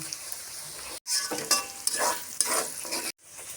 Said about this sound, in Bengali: রোস্টের জন্য কড়াইতে পেঁয়াজ দিয়ে দিলাম তেজপাতা মশলা দিয়ে দিলাম